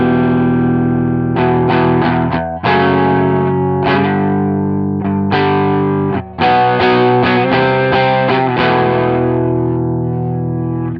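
Heavily distorted electric guitar played through a Marshall amp plugin in Two Notes Genome with a 4x12 cabinet, loud chugging chords and ringing riffs in bursts, alone with no talking.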